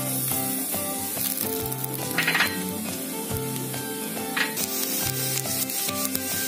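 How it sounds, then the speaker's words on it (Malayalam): Coconut pieces sizzle steadily in hot oil left from frying onions, with occasional brief rubbing or stirring scrapes over a constant frying hiss and a faint tonal hum in the background. "ഉള്ളി വറുത്ത അതേ എണ്ണയിലോട്ട് തന്നെ നമുക്ക് തേങ്ങാക്കൊത്തും കൂടെ വറുത്ത് പോരാം."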